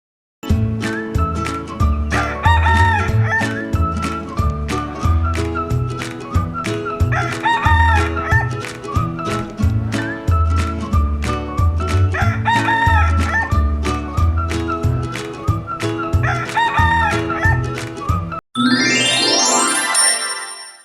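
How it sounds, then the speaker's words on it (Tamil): A rooster crows repeatedly over a loud, steady musical backing in a children's animal-sounds song, the calls recurring in a regular pattern, ending with a brief bright flourish. "சேவல் கூவும். சேவல் கூவும்."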